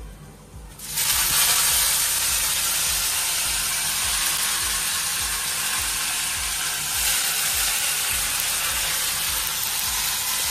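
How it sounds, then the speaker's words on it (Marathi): Loud, steady sizzle and hiss erupts as wet coriander leaves hit hot tempering oil, continuing unbroken and close for several seconds. "आता ही पाण्यातून थोडंसं चरचरेल।"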